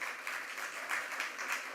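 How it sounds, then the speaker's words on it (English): An audience claps steadily and continuously for junior group students at a school science competition result ceremony, a dense, even patter of many hands at moderate distance with no voices over it. "A big round of applause for all of them"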